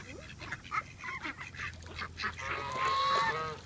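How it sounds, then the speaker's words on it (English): Geese honk and ducks quack at a lakeside while the birds are fed, a close run of calls growing into a louder, drawn-out honking burst toward the end. "There's two geese that are a little aggressive."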